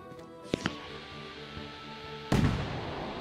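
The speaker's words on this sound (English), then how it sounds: "Ooh, look at the fireworks." Fireworks go off in the video game Fireworks Mania: two sharp pops early, then one loud booming burst that fades with crackle, over a steady tonal game soundtrack.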